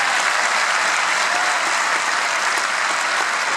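An audience at a band's event applauds steadily to welcome a bass player, a dense, even wash of clapping from many hands that stays loud for the whole stretch with no voices over it.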